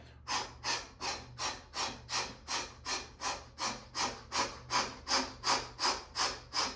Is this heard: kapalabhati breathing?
yes